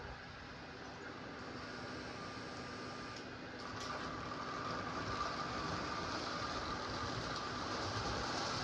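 A Lionel 1666 steam locomotive from a 1946 toy train set running on a large track loop powered by a small transformer, a steady whirring rumble with constant motor hum that grows slightly louder midway.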